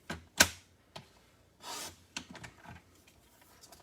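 Paper being cut for an angled-fold card base, a few short crisp snips and slicing strokes, quiet and close, with brief pauses between cuts.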